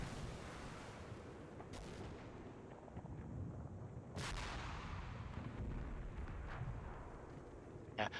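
Strategy video game battle with distant gunshots and artillery fire, several sharp cracks and muffled booms over a rumbling background, fairly faint.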